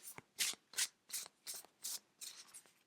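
A thin but sturdy Thoth tarot deck is shuffled by hand in about seven crisp, close riffling bursts at an even rhythm, each a short papery rush with brief pauses between.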